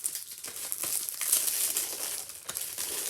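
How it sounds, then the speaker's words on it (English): Crisp plastic wrap crinkles and crackles continuously as it is peeled off a DVD case of the original 1976 Carrie, a close, busy rustling with no talking. "I gotta unwrap this one too."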